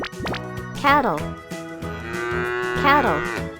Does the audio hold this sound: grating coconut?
no